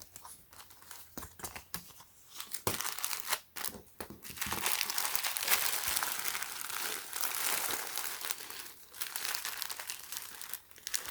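A plastic bag holding a Supreme x Honda x Fox moto jersey crinkles and rustles close up, with irregular handling crackles and bursts that swell louder through the middle of the clip.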